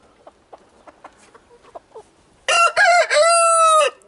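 A rooster crows once loudly and up close, a long drawn-out call preceded by several soft clucks and scratching sounds.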